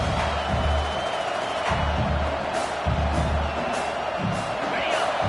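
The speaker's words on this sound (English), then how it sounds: "This crowd going to try to make life miserable for these guys." Football stadium crowd at a USC versus Texas A&M game, a steady loud roar of many voices with rising swells of cheering throughout, under a sports commentator's talk.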